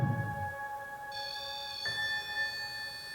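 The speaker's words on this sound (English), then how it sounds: "The REM pod just went off." A REM pod ghost-hunting device sounds its alarm, steady electronic tones that step up in pitch and stack into layered beeps, fairly quiet and alone in a still room.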